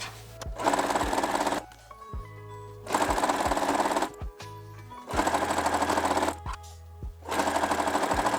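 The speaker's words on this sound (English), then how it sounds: "Let's sew." Sewing machine stitching quilt fabric in four evenly spaced runs of fast, rattling needle strokes, with brief pauses and small clicks between them; close and clear.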